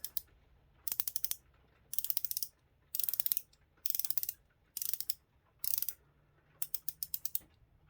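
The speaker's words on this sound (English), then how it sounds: "Now I think it's a 60 click bezel, which is actually adequate for a diving watch" A rotating bezel on a Swiss-made No-Ve diving watch gives sharp, close ratcheting clicks in about seven quick bursts, each a short run of rapid ticks separated by brief pauses.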